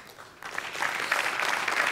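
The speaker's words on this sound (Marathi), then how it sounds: "आज त्यांच्यासाठी एकदा जोरदार टाळ्या" A studio audience at a Marathi comedy show breaks into applause, rising from quiet to a steady, moderately loud clapping that fills the short stretch.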